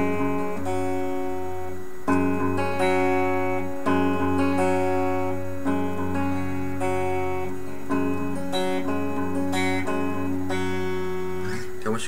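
Acoustic guitar playing the intro to a song, a steady stream of ringing picked notes with sustained open strings, close and clear, with no talking.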